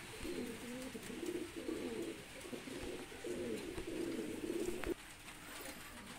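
A pair of Pakistani pigeons coo softly, close by, in a run of low rolling, throaty phrases repeated for several seconds, with a sharp knock or tap near the end.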